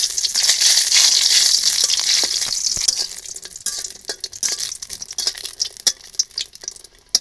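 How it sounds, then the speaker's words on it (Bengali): Bori lentil dumplings frying in hot oil in a wok give a loud, dense sizzle that fades after a few seconds into scattered crackles and pops. "আমি প্রথমে বড়ি কটা ভেজে নেবো।"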